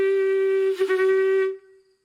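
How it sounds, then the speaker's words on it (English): A natural hunting horn made from cow horn is blown alone in one loud, steady sustained tone with rich overtones, a brief wavering flutter near the middle, then a quick fade to silence. "But a natural horn is going to sound something like this."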